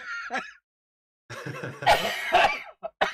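A person with a lingering cough on a podcast stream, a short cough, a pause, then a harsher run of several rough coughs and throat-clearing bursts, close to the mic.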